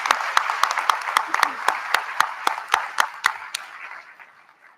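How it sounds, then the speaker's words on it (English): Audience applause at a military academy commencement, many hands clapping in a steady patter that slowly thins and fades toward the end. "Let's give Commander Miller another round of applause"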